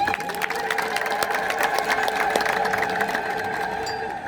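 A crowd at an Ethiopian Orthodox religious gathering ululates in praise, a sustained high trilling chorus that holds steady throughout, loud and massed.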